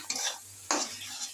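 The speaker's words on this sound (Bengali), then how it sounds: "মশলাটা আবার ভালো করে কষিয়ে নেব" A spice paste with grated tomato and salt is stir-fried for an eggplant and potato dish, giving two brief bursts of sizzle and spatula scraping, each fading quickly over a low steady hum.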